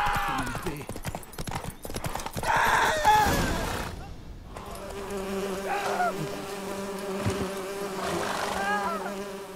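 A continuous insect buzz of wasps in The Witcher 3 hums steadily alongside clip-clopping hooves and game sounds, fairly close and persistent.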